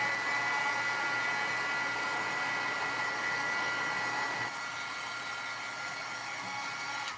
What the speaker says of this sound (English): I am going to heat this with a heat gun